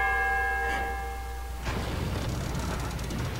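In the horror video game Silent Hill Downpour, a bell rings with a sustained, moderately quiet tone that stops abruptly partway through, giving way to a low, rumbling ambience.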